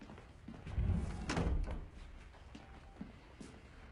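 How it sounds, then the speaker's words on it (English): A door is pushed shut with a heavy, muffled thud and rattle, followed by a few soft knocks and shuffling footsteps in a quiet room. "Go shut the door."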